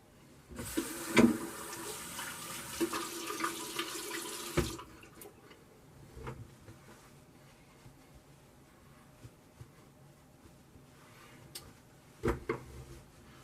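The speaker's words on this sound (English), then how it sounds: "let me rinse up and I will come back for some post shave" Tap water runs into a sink for a few seconds as someone rinses their face after a shave with a Clog Pruf razor, then cuts off, leaving faint splashes and drips in a quiet bathroom.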